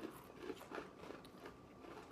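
Sweet and salty caramel-coated Bugles corn snacks crunched between the teeth, a steady run of soft crackling bites heard up close at a very low level.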